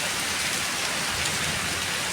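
Heavy rain pouring down outdoors during a storm, a dense continuous hiss that stays steady and loud throughout, with no separate rumble standing out.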